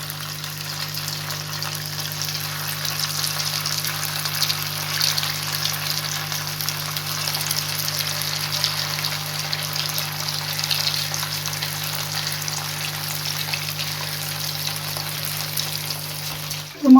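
Snacks frying in ghee in a home kitchen, a steady close bubbling sizzle with a low constant hum underneath, ending in a brief loud clatter.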